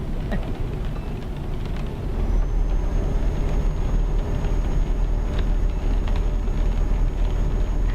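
Simulated truck driving in Euro Truck Simulator on a rainy road in Scotland: a steady, loud low engine and road rumble throughout, with a faint high whine and a slight rise in level after two seconds.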